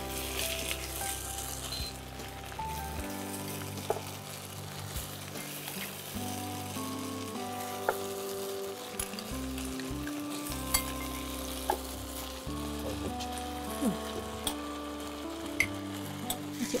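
Mutton for railway mutton curry sautés in a pan with a soft continuous sizzle and occasional light clinks of a spatula against metal, moderately quiet and close, with no voices.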